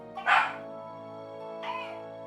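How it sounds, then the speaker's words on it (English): A Shiba Inu lets out two sharp, high-pitched vocal bursts: a loud scream-like yelp, then a shorter, softer cry about a second later, over a low steady background hum. "If you guys didn't know what the Shiba scream was, that's what it is. So they bark, but they also scream."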